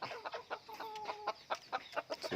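White-eared gamecock chickens clucking in a steady run of short, repeated calls, fairly close, with one longer drawn-out note in the middle.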